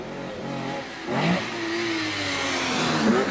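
A 3-litre Austin Healey Mark II engine at a historic hillclimb sounds from a distance, revving up and easing through gear changes against open-air background noise.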